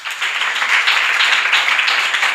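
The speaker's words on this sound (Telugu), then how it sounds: "చప్పట్లు కొట్టండి." A church congregation at an evening prayer meeting in Warangal claps hands steadily and loudly for a couple of seconds, a dense continuous patter of applause with no voices.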